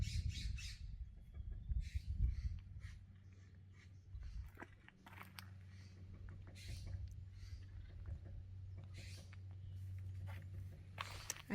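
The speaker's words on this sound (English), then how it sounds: "I hear woodpeckers and scrub jays." Wild birds including woodpeckers and scrub jays call in short, scattered squawks and chips at a moderate distance on a hiking trail near a ranch, over a low steady background rumble.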